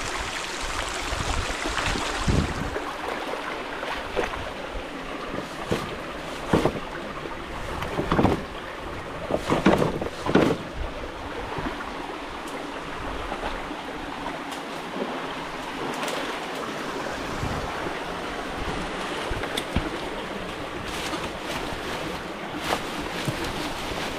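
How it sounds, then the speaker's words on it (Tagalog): Strong water rushing through a setup supplying a farmhouse, a steady broadband roar with irregular splashes and gurgles, close and continuous for the whole stretch, with no talk. "Ay, ang lakas po ng tubig ay."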